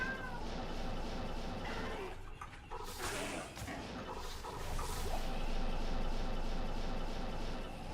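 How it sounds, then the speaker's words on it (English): A cat meows indoors in a room, a few drawn-out cries rising above the steady background of computer game sound effects, fairly close and clear. "Just think of Henry's meowing as just some ambience."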